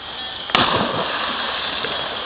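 A person drops from a rope swing into a lake and hits the water with one sharp splash, followed by a couple of seconds of churning water and outdoor background noise.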